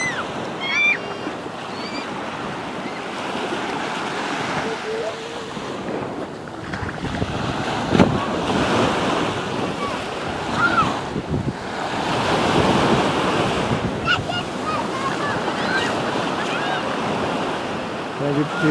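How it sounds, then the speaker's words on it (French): Small waves breaking on the beach at Étang Salé, Réunion, not sheltered by a lagoon: a steady, broad wash of surf with wind buffeting the microphone, swelling and easing over the stretch. "des petites vagues atlantiques un peu"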